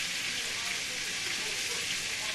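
Chicken fried steak sizzles steadily in hot oil, a constant bright crackling hiss with no break.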